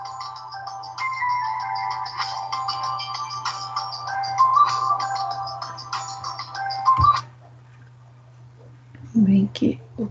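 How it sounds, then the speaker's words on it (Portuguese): A mobile phone rings during an online lesson, its looping electronic ringtone repeating steadily for about seven seconds before it stops abruptly, followed by a few brief handling sounds. "Mas olha que hora de tocar telefone."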